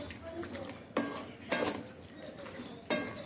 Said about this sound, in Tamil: அப்பப்போ கிளறி விடுங்க.